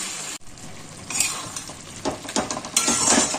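A lid comes off a pot of chicken chatpata with carrots that has simmered for about ten minutes. A brief metallic knock is followed by steady close sizzling and the scrape of stirring.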